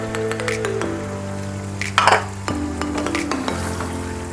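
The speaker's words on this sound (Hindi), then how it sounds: "4 मगज पेस्ट ऐड करती हूँ।" Magaj seed paste drops into simmering mutton masala in a pan, a steady hiss and sizzle with occasional stirring scrapes and a brief clink, over a low background drone.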